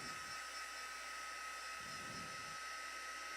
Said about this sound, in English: And as I'm heating, I like to swirl my heat gun around.